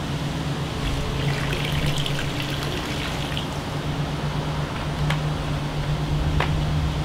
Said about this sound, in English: I take a bottle of muriatic acid. I'm going to slowly pour it into the deep end of the pool.